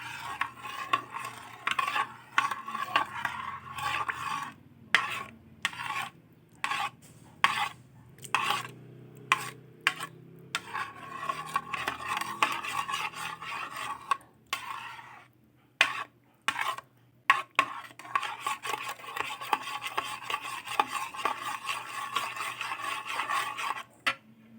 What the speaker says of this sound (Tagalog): Dagdag tayo ng sugar. Halo-haloin lang natin ulit.